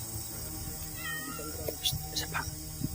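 A cat's meows, a few short cries rising out of a steady hissing background at night, with a voice speaking nearby.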